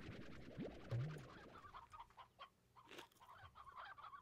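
Chickens cluck in the video game Slime Rancher, a few short close clucks followed by softer scattered clucking that stays on its own, with no one talking over it.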